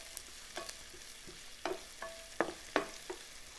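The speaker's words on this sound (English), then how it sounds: "let's add half cup of onion, wow, this is very hot. It's heated very well." Chopped onion frying in a very hot pan, heard as a few soft scattered sizzles and stirring scrapes, quiet and close with no talking.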